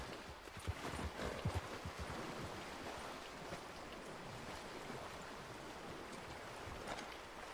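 A horse wades through water in Red Dead Redemption 2, its hooves splashing and clopping in a brief cluster before fading into a steady wash of flowing water and surf, fairly faint throughout.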